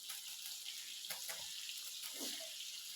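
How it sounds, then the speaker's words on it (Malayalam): Water is drained off cooked rice in a village kitchen, a faint steady hiss of pouring water with a few soft splashes and clinks. "അപ്പം ഞാൻ ചോറൊക്കെ ഒന്ന് ഊറ്റിയിട്ട് വരട്ടെ കേട്ടോ."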